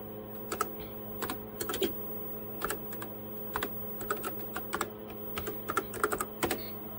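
Keys clatter on a TRS-80 Model 16 computer keyboard running CP/M, in irregular bursts of quick, close, crisp clicks separated by short pauses, with a steady low hum underneath.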